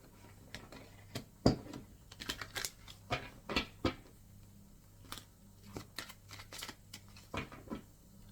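Oracle cards riffled and shuffled by hand, giving a string of soft, irregular papery flicks and taps, close and quiet, with short pauses between bursts and no talking.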